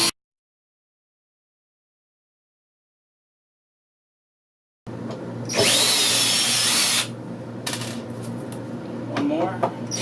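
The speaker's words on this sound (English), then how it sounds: "Just have my drill with a number 2 square bit." A cordless drill fitted with a number 2 square bit backs screws out of a Samsung convection oven installation in a 2017 Entegra Aspire motorhome, one loud whirring burst followed by shorter rattling bursts after several seconds of silence.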